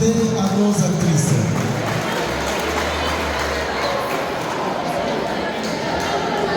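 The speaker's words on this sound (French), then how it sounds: "Applaudissons s'il vous plaît à nos actrices." Crowd noise from spectators at an interschool Miss Nyiragongo pageant in Nyiragongo, a dense, steady wash of applause and cheering that stays loud throughout, with a low hum and chatter mixed in.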